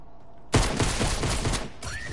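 Gunfire in a zombie video game, a sudden loud burst of rapid shots that keeps going for over a second, then cuts off into a short fading tail.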